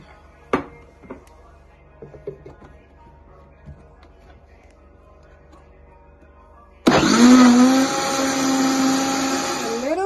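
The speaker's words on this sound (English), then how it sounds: "And we're going to blend." A few faint clicks and taps, then a blender kicks on loudly, blending breadfruit punch, and whirs steadily to the end, its motor pitch shifting slightly.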